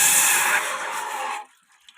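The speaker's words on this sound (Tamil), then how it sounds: "2 டம்ளர் அளவுக்கு தண்ணி ஊற்றிக்கலாம்." Water poured into a cooking pot while preparing a home cold-and-cough remedy, a bright splashing stream lasting about a second and a half before stopping abruptly, close and fairly loud.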